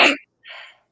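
A person's sneeze: a sharp, loud burst of breath up close, followed after a short pause by a softer, breathy exhale, with no talk over it.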